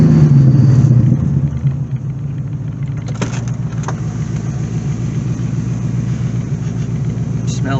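A Chevrolet C4 Corvette with a fault causing no acceleration and no speedometer idles steadily nearby, a loud low rumble that starts heavier at the start-up, then settles into an even drone with a few faint clicks.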